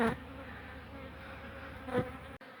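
Honey bees buzzing steadily and close while a beehive is relocated, a continuous drone with a couple of louder passes near the mic.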